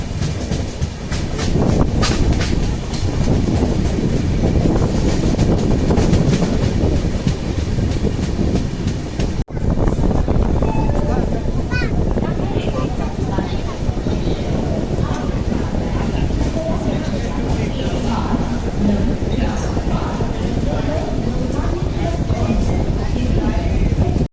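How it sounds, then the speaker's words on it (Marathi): A train rumbles steadily with rhythmic wheel clatter as it rolls into Nashik Road station, loud and close, with voices talking faintly over the noise. "दोनच मिनटात ट्रेन थांबते"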